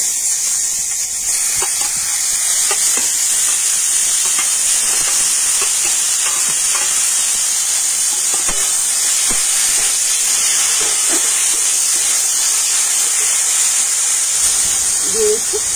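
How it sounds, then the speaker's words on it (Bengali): Boiled pumpkin goes into hot oil with grated coconut, bringing a loud, even hiss that holds for the whole stretch, flecked with faint scattered clicks and pops. "আর এবার আমি এই সিদ্ধ করে রাখা কুমড়োটা দিয়ে দিচ্ছি।"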